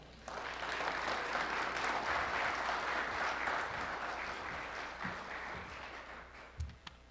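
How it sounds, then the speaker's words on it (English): Applause fills a historic Baptist church during a community forum about rebuilding a stadium field, with sustained clapping from a gathered crowd that starts abruptly, holds steady and then slowly thins, sounding somewhat distant. "Please let's extend a round of applause to President Schill."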